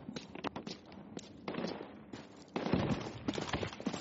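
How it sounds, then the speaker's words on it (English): Mortar fire in a desert battle video game, a string of sharp bursts and thumps of varying loudness scattered through the stretch, with the last part louder and denser. "Very nice mortars."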